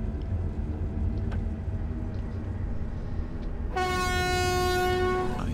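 A BR 132 Ludmilla locomotive in Train Simulator 2018 sounds its horn partway through, a loud sustained multi-tone blast over a steady low rumble of the running locomotive.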